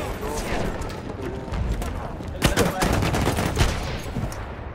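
Rapid gunfire rattles through a shooting video game, with dense overlapping shots and a sharper burst midway under continuous background game noise.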